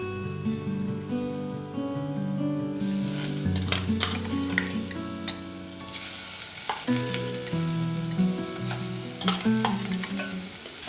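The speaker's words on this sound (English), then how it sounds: "So now you're frying the prawns until they are almost done." Prawns frying with onions in a hot pan for Goan prawns, a steady loud sizzle with stirring scrapes and clatters throughout, no talking.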